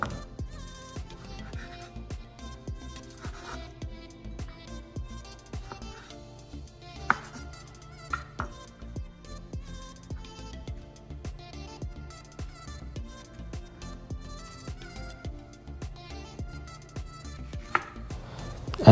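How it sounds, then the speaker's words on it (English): Cherry tomatoes for a garden Cobb salad are sliced with a knife on a cutting board, a long run of quick, faint, close taps and cuts repeating at an uneven rhythm. "Now we're gonna slice and add our cherry tomatoes."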